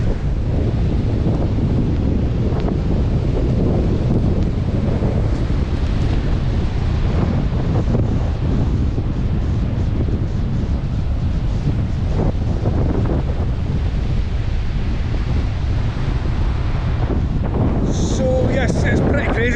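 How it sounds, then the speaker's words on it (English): Wind and surf pound a beach as Hurricane Milton approaches, the sea eroding the beach lane; a loud, steady roar of gusting wind buffeting the microphone fills the whole stretch, with breaking waves churning beneath it. "The sea is totally eating away"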